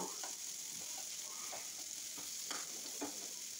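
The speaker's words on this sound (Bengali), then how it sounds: "দিচ্ছি একটু লবণ, দিয়ে ভেজে নিব পেঁয়াজটাকে" Sliced onions frying with salt in oil for beef dopiaza, a continuous steady sizzle with occasional stirring scrapes breaking through at irregular intervals.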